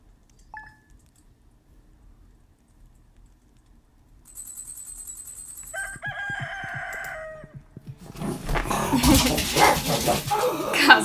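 A real dog barks at a farm animal call from the Stardew Valley video game. Soft game chimes and a crowing rooster come first, then loud, dense barking fills the last few seconds.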